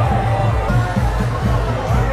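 A large outdoor crowd at a pro-Israeli festival on the UCLA campus, April 2024, a dense, loud wash of voices, shouts and babble with a pulsing, chant-like low rhythm that never lets up.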